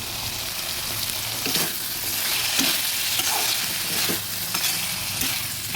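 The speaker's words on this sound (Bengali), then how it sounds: "ভালোভাবে নেড়ে দিচ্ছি" Boiled kabuli chickpeas being stirred in a frying pan for chola, a steady sizzle under repeated scraping strokes of a spoon, close and moderately loud with no talking.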